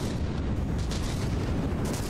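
Explosions in the naval combat game From the Depths during a battleship battle, a dense continuous rumbling roar of blasts and booms with a few sharper bursts.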